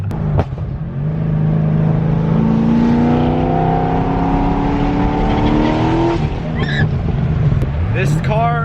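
A Dodge Hellcat's V8 engine revs and pulls hard while driving, a loud rising roar through the gears with a brief lift-off and another climbing surge near the end.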